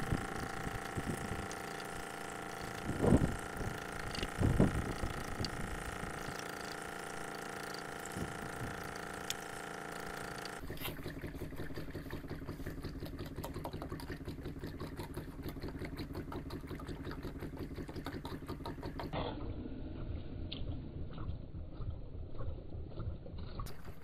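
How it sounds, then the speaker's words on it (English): Shaker table running wet ore with water and dish soap: a steady mechanical hum and rhythmic rattling with flowing, trickling water, continuous and moderately loud, shifting in tone partway through, with no talking. "we're ready to run it on the shaker table"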